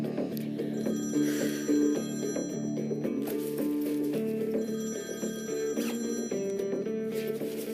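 A mobile phone rings with a steady, repeating ringtone melody that fills the whole stretch at moderate loudness, with no talking over it.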